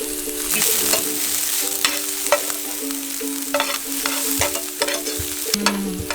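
Garlic and spices sauté in coconut oil for a Kerala-style vegetable korma, a steady close sizzle broken by frequent scrapes and clinks of stirring.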